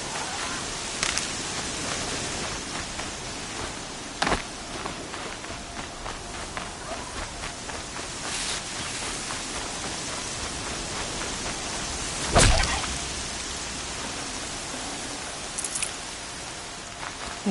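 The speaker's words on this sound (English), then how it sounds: "Air's heavy with rain." Steady rain falls across an outdoor scene in the video game Horizon Zero Dawn, a constant hiss broken by a few brief sharper splashes and thuds, with no voices.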